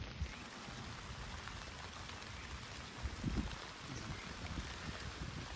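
Rain falls steadily across open village fields of sesame and pigeon pea at night, a dense, even hiss of drops with a few louder patters near the middle, and no voices.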